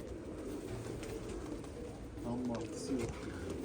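White Vienna tumbler pigeons give short, low coos among background rustling and noise, while someone talks nearby.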